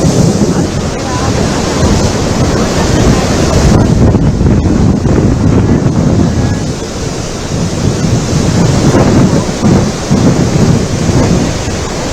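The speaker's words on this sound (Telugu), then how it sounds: "ఈదురుగాలులతో కూడిన వర్షం పడుతుండటంతో భక్తులు తీవ్ర ఇబ్బందులు ఎదుర్కొంటున్నారు" Heavy cyclone rain from Cyclone Fengal, with gusty wind, lashes the hills at Tirumala: a loud, steady roar of downpour and wind buffeting the microphone, continuous throughout with no voices.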